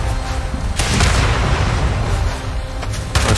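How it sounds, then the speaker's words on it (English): Rocket launcher fire in the online game Fallout 76: a dense, booming blast with a sharp onset, then a rumbling roar that holds steady with faint extra pops near the end. "I'm using the rocket launcher."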